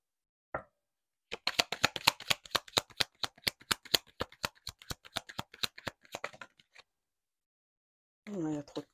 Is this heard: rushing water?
no